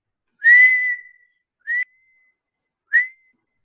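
Three short, shrill whistle blasts imitate a swimming coach's signal, the first longer and the next two clipped, each sounding alone against silence.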